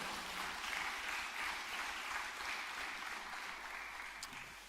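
A church congregation claps in encouragement during a Korean service; sustained, even applause from many hands fills the space for several seconds, moderately distant and gradually tapering toward the end.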